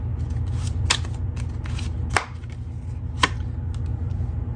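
Tarot cards being handled and shuffled close up: soft riffling and sliding with a few sharp slaps of cards against each other, no voices.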